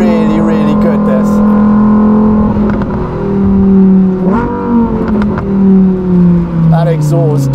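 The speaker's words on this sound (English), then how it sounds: "That exhaust doing an absolutely lovely job." Novitec-exhausted Lamborghini Huracan EVO driven hard, a loud, close engine note climbing and falling through gear changes with sharp revving surges, while someone talks over it.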